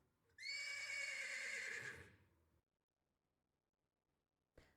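A worked-up horse in Save The Villainess lets out one loud, close whinny lasting about two seconds, falling off into quiet, followed by a brief faint noise at the end.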